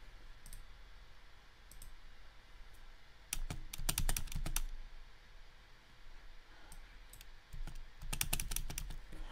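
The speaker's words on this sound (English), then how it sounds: "okay, you can hear the keyboard" Rapid clattering keystrokes on a loud computer keyboard come in bursts, with quieter gaps between flurries of fast typing, recorded close to the mic with no talking.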